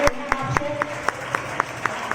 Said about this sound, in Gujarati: તાળીઓ વગાડતા રહ્યો એટલે અમને મજા આવે